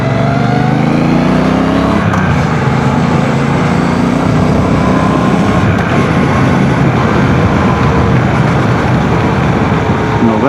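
A 1200cc motorcycle engine while riding, a loud, steady drone with wind rush. At one point the engine note rises and then settles into an even, calm hum. Nobody speaks.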